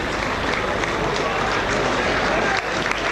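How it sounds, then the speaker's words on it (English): Rugby crowd at a Dewsbury Rams versus Leigh Challenge Cup match gives a sympathetic round of applause as a player leaves the field, a steady dense wash of clapping and crowd noise throughout. "Sympathetic round of applause."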